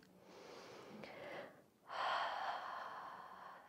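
During a yoga breathing exercise, a slow, soft breath passes through the nose, a breathy airflow with a brief dip before a fuller exhale, faint and close with no voice over it.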